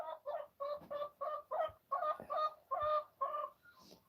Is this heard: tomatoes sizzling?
no